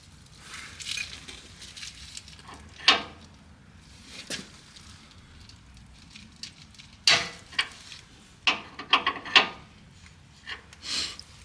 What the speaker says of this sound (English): And then I'll just use a spanner to undo the end near the T-piece.